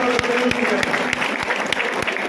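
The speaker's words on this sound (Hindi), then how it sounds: "एक बार पुनः भारतीय सेना के प्रति जोरदार तालियों से उनका स्वागत करें।" A crowd at a Tiranga Yatra rally honouring the Indian army and former soldiers breaks into loud, rapid clapping, with sharp claps standing out and a voice briefly audible at the start.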